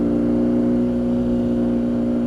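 A BMW R nineT motorcycle's exhaust drones steadily and close, a sustained buzzing engine note held at constant pitch without breaks or speech.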